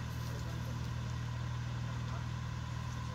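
Jeep Grand Cherokee on an off-road course, its engine droning steadily at a constant low hum while the wheels spin, a continuous rumble with no clear revving peaks, voices faintly present in the background.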